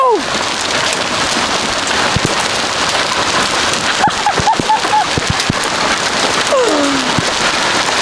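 Dense, steady patter of hailstones pelting a surface nearby, with a few faint voices and exclamations breaking through.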